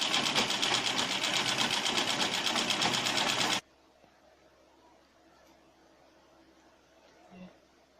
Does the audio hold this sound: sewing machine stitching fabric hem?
yes